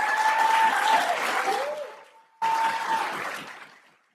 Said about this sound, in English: And I get another round of applause for all the students.